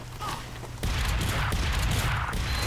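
Gunfire in Team Fortress 2 breaks out after a quiet start, a dense sustained fusillade of shots and impacts that keeps going to the end, with no voices over it.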